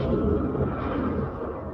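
In the Dark Souls video game, a fog door gives off a dense, steady whooshing rumble as the player walks through it, filling the whole short stretch without any voices.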